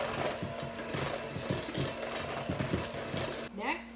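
An electric mixer beats full-fat cheesecake batter after sour cream goes in, giving a steady whirring motor drone with a rattling, churning texture that runs throughout and drops out near the end.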